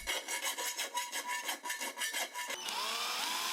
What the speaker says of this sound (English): I started drilling holes in the metal for the boards